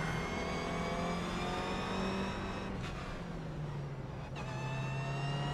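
Race car engines droning steadily during a rolling start in the iRacing sim racing game, with a sustained loud hum and gentle pitch shifts as the pack holds formation.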